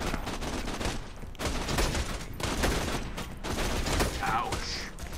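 A turret fires in Borderlands 2 in sustained bursts of rapid gunfire, loud and continuous with brief gaps, while faint game effects ring out near the end.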